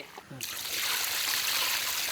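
Water pours steadily into a cooking pot for village-style mutton, a brief clink and then a continuous splashing stream up close, with a voice speaking at the start.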